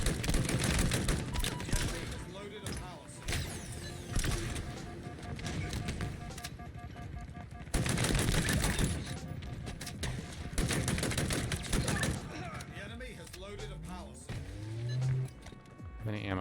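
Halo Infinite multiplayer battle with dense bursts of weapon fire, including charged Ravager shots, crackling in rapid clusters over game effects while a voice talks intermittently.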